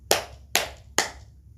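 Hands clapping in imitation of a seal during a library story time: three crisp, evenly spaced claps, close and clear, with no talking.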